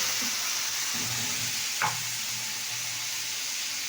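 Water poured into a pan of stir-fried curry, giving a steady close sizzle with a brief burst of hiss partway through, no talking.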